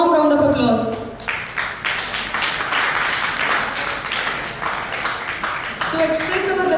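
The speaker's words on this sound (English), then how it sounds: "Let us welcome our esteemed chairpersons with a warm round of applause." A seminar audience applauds to welcome the chairpersons at a legal event on medical negligence. Steady, dense clapping fills most of the stretch, with voices talking at the start and again at the end.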